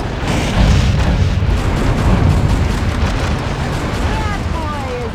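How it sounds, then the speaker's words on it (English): Missiles striking the player's mech in the action game Metal Wolf Chaos XD, a dense run of booming explosions and rumble, with short whistling tones near the end. "it's those missiles that are hitting me"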